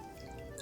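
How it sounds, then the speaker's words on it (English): Water trickling and pouring into a bowl holding sugar in a home kitchen, a brief, steady liquid stream at moderate level. "Now add a small portion of water."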